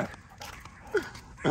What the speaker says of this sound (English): That dog gonna pass out.